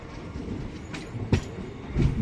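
A Bidar to Mumbai CSMT superfast express train rolls into Latur Road Junction, with a rumbling rail drone, rhythmic wheel clacks over the joints and a couple of sharper metallic knocks, heard from on board.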